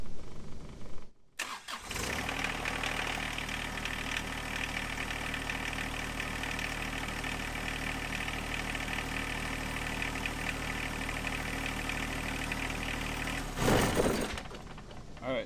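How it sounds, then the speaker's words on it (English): A tractor engine cranks and catches after a short pause, then settles into a steady, close idle that runs without a break, ending with a brief louder burst near the end. "I'm gonna run the tractor for a second."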